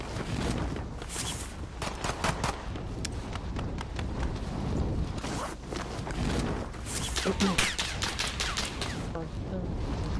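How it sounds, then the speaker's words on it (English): Continuous gunfire in Warzone, dense crackling shots in fast irregular volleys spread through the whole stretch, mixed with game clatter and players talking over it. "Someone's shooting at me."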